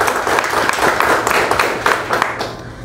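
An audience at an indoor business workshop applauds with dense, loud clapping for about three seconds before it starts to fade.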